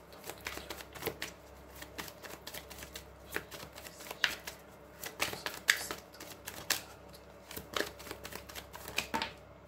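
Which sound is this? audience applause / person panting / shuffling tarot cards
shuffling tarot cards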